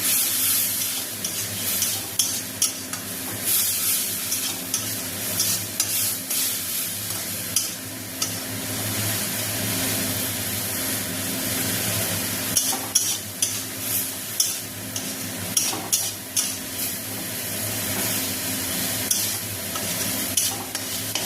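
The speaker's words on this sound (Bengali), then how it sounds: "এখানে গুঁড়ো মশলাগুলো জল দিয়ে গুলে নিয়েছি, এখানে দিয়ে দেবো, দিয়ে ভালো করে কষিয়ে নেব" Ground spice paste mixed with water hisses and crackles in a hot pan while a spoon stirs and scrapes it repeatedly, close-up, with a dense continuous sizzle and regular clinks.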